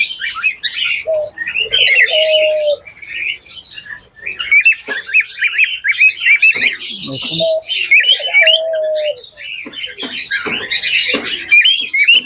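Caged doves, a large-sized breed of ghughu sitting on eggs, give short low coos twice amid a dense, loud chatter of small chirping birds that continues steadily throughout; no voices.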